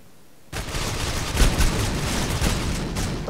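Dense, close gunfire from the mobile shooter game Critical Ops bursts in after a half-second of quiet and continues as a rough, rattling barrage of overlapping shots.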